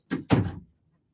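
A door thuds twice in quick succession, a short knock then a heavier bang, nearby and alone against an otherwise quiet indoor background.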